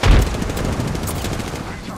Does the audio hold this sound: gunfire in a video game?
yes